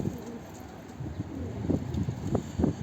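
Tippler pigeons cooing softly in a loft, with low, repeated coos rising and falling against a steady background hiss and no voices.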